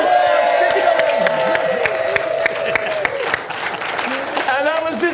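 Studio audience on a live comedy game show applauding and cheering, a loud, continuous wash of clapping with whoops, mixed with a sustained musical tone and voices.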